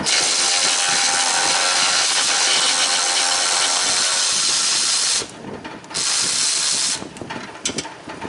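A small electric power tool loosens parts during transmission cooler removal on a 2013 Mustang GT. It gives a loud, continuous close-up whir for about five seconds, drops briefly, then runs again before trailing off into scattered rattles.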